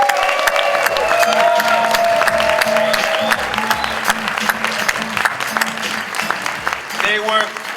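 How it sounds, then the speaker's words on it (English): Applause and cheering from a conference crowd at an augmented-reality expo's closing awards, sustained and dense for the whole stretch, with a voice and music-like tones running underneath. "a huge round of applause for the amazing AWE awesome"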